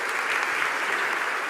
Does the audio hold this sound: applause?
yes